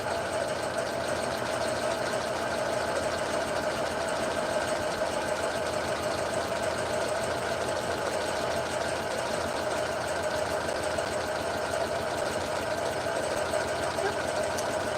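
Sewing machine stitching a purse, a steady continuous mechanical whir with a fast rhythmic needle chatter running unbroken throughout, close and moderately loud.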